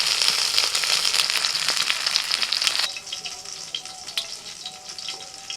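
Chicken kebabs frying in butter in a pan, with a loud dense sizzle at first that drops to a quieter, crackling fry partway through, close up and with no talk.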